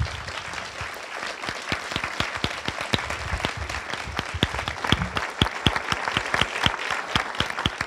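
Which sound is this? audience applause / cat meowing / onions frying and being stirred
audience applause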